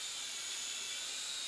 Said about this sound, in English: little drone plane